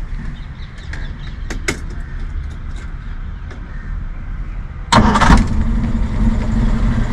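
A vintage Fiat 1100 car engine cranks and catches at about the five-second mark, then settles into a steady idle. A few faint clicks and taps come before it. No one talks.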